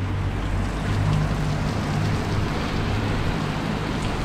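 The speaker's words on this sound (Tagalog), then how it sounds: "Lakas na ng ulan." Heavy rain pouring down in Tacloban, Leyte, a dense, loud, steady roar of broadband noise with no break from start to finish.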